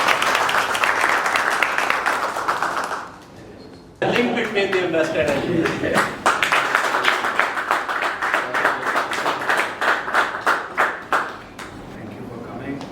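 Audience at a formal delegation event applauding with sustained crowd clapping, briefly pausing then resuming loud and dense, tapering toward the end, with a voice speaking over it.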